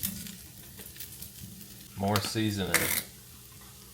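Teriyaki chicken fried rice sizzles steadily in a pan, with a louder burst of scraping and stirring midway; a voice speaks briefly over the frying.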